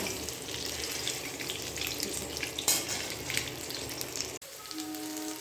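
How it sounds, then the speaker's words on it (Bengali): Eggs frying in oil in a pan for a potato curry, a soft, steady sizzle at moderate distance with one brief clatter, then a quieter ringing tone at the end. "ডিমটা আমরা কিন্তু খুব বেশি ভাজবো না, একটু হালকা ব্রাউন কালার চলে আসলে আমরা ডিমটা নামিয়ে রাখবো।"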